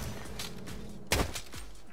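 Quiet bursts of gunfire from game weapons in Saints Row, a few scattered shots with one sharper crack near the end, faint and distant under low background noise.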